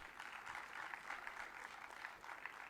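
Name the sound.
audience applause at award ceremony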